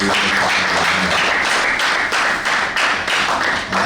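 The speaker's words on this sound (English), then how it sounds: "can we just clap our hands for the Lord?" An audience claps along at a church-style gathering, a dense, loud wash of handclaps with a steady beat running throughout, no voices over it.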